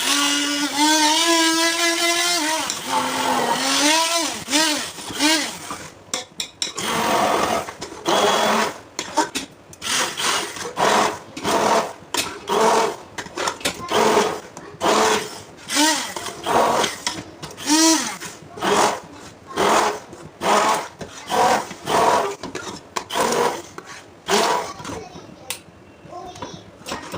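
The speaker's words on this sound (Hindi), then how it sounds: "अब हमने हैंड बीटर यूज़ करके इसको ग्राइंड कर लेना है। स्विच लगाते हैं इसका और इसको ग्राइंड कर लेते" An electric hand beater grinds coarsely cut spinach in loud, whirring bursts that start and stop rhythmically after someone speaks briefly.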